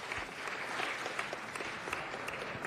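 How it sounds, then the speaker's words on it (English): Applause from a city council meeting audience, a steady wash of clapping hands filling the room for a few seconds with no voices over it. "Let's give them another round of applause."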